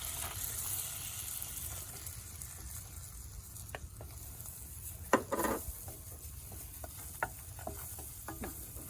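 Flour stirred into melted butter in a pan while making ham and cheese scalloped potatoes, a steady soft sizzle with scraping spoon strokes and a few brief clinks against the pan, close and alone without talk.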